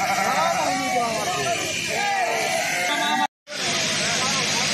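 Sheep bleat repeatedly and close by at a Balumama procession sheep-shearing festival in 2024, with a crowd murmuring around them and a brief silent cut near the end.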